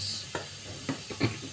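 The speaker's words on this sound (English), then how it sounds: "then I'll mix sugar, baking powder, cinnamon, and a pinch of salt." Sugar, baking powder, cinnamon and a pinch of salt stirred together in a bowl for lemon mandazi: three or four soft, brief scraping strokes, close and quiet, with no voices.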